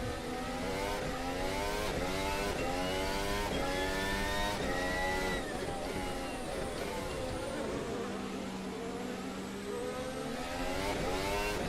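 A Formula 1 car engine in a racing video game whines at high revs, pitch climbing and dropping repeatedly through gear shifts, loud and continuous with a buzzing, insect-like tone.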